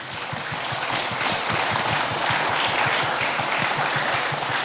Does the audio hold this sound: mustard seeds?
no